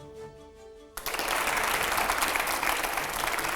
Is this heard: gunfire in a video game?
no